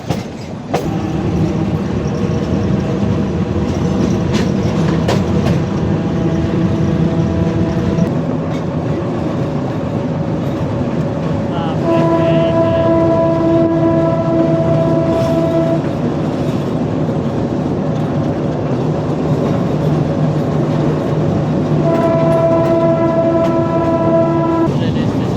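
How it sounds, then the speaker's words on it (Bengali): A Narayanganj commuter train rumbles steadily on an old line, loud and close, with repeated long horn blasts sounding over the rolling noise. "আমরা চলে এসেছি নারায়ণগঞ্জ রেলওয়ে স্টেশন"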